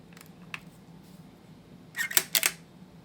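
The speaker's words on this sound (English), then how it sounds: "the mechanical shutter in this just sounds super cool." A vintage Kodak Duaflex II camera's mechanical shutter fires in a quick cluster of crisp clicks and snaps near the end, close and fairly loud over quiet room tone, after one faint earlier tick.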